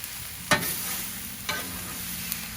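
Vegetables and corn fry on a Blackstone griddle outdoors in the snow, giving a steady close sizzle with a few sharp scrapes or stirs of a spatula at intervals, and no talking.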